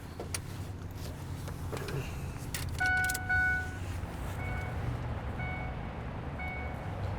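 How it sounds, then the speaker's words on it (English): Ignition key of a 2005 Ford F150 turned to the run position, with a faint click and jangle followed by a few soft, evenly spaced electronic chime beeps over a low cabin hum. "So we're going to turn the ignition to the run position."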